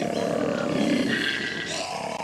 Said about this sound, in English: He bellows harder and at a deeper sound frequency.